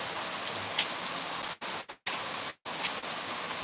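Steady rain falls in a dense, hissing wash, close and continuous, with a few brief dropouts in the sound.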